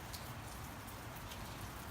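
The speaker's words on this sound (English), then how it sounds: "It's a pretty gentle rain" Gentle rain falling steadily outdoors near a house, a soft even patter of drops on surfaces with faint scattered ticks, continuous and quiet with no voices.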